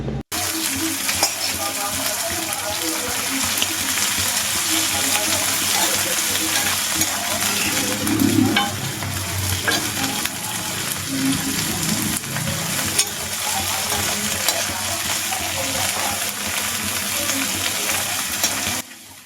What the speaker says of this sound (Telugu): మీడియం ఫ్లేమ్లో మంచిగా ఈ రొయ్యలని రెడ్ కలర్ వచ్చేదాకా వేయించుకోవాలి